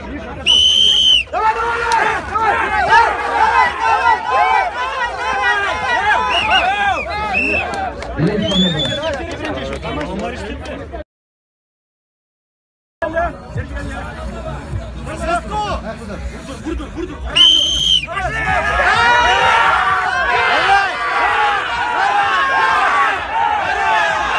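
Fans at a rope tug-of-war match shout and cheer in a loud, dense crowd babble with whistles mixed in. Nearby voices keep talking over the noise, which drops out briefly in the middle.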